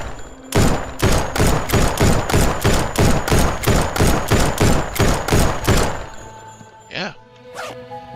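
An assault rifle in the indie survival game No One Survived fires a long rapid burst of about sixteen loud, evenly spaced shots, then falls quiet before two short scraping handling sounds.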